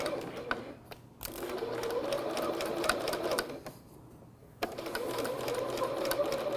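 A sewing machine stitches fabric around a curved neckline in bursts of rapid, even whirring, pausing briefly twice as the fabric is repositioned, close and clear.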